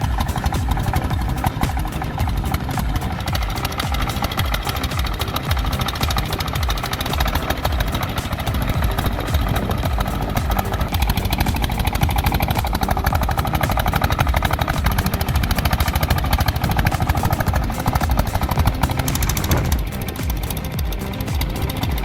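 A heavily loaded wood truck's diesel engine laboring off-road on a muddy, slippery track, a loud, dense, continuous rumble with steady throbbing that never lets up for the whole stretch, with no voices over it.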